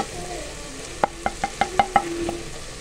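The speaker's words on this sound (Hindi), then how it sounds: "हम इसको थोड़ा भूनें।" Chicken and chana sautéing in a pan, with a low steady sizzle under a quick run of six sharp spatula taps or scrapes against the pan, no talk.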